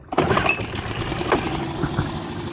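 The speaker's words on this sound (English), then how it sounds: "Right, starting engine." A small outboard engine on a fishing dinghy catches and starts, sputtering into a rough, busy idle that runs steadily right up close.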